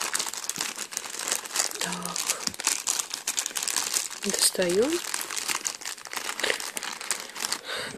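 A thin plastic packet from an iHerb parcel crinkles and rustles continuously as the contents are pulled out, close and busy, with a person speaking briefly over the handling noise.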